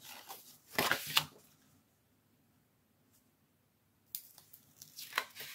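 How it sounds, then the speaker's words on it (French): Paper card folded and pressed with double-sided tape while making a Stampin' Up perfume bottle box, heard as close rustling and crinkling bursts at the start and the end, separated by a quiet gap. "je vais replier et coller comme ceci"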